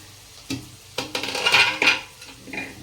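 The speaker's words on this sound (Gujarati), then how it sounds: "ઢાંકણ ઢાંકીને એક મિનિટ આ સાંતળવા દઈશું બધા શાકભાજી" Mixed vegetables for a vegetable pulao cook in a pan with a lid, giving soft sizzling and a few clattering metal knocks and stirs at irregular intervals, faint and close.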